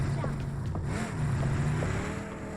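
A vehicle engine drones steadily in a squad-based shooter video game, a low humming motor that holds for a few seconds and then eases slightly, with faint background noise.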